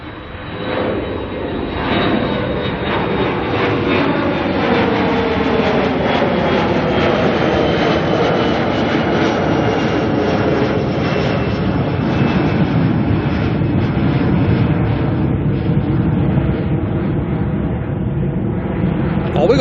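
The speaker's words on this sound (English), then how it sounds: "Oh, it's Airwork. 737-400. Oh, this will sound awesome." An Airwork Boeing 737-400 jet departs Auckland Airport with a loud, sustained engine roar and a slowly shifting whine that builds and holds across the whole stretch, with a voice heard faintly.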